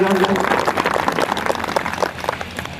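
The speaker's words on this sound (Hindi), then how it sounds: "एक बार जोरदार ताली बजा के स्वागत कीजिएगा" A conference crowd at an annual gathering in Salhewada, Balaghat claps to welcome a guest, producing dense, sustained applause with steady overlapping claps and a murmur of voices throughout.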